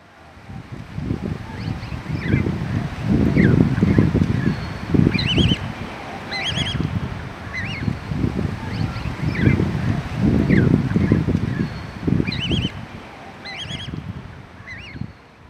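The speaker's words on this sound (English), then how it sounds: "the wind noise on this particular video is not very attractive" Steady wind rumble buffeting an outdoor recording, a low blustery roar swelling and easing throughout, with fowl-like honking or gobbling calls heard faintly over it.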